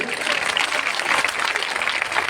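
Crowd applause at a Nishad Party political rally led by Dr Sanjay Nishad, a brief, steady wash of clapping from a large gathering, close and loud throughout.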